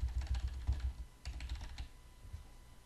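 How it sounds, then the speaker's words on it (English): Keys on a computer keyboard pressed during Photoshop editing, a quick burst of clicks followed by a second cluster and then a few scattered taps, close and fairly quiet. "let's press B on our keyboard"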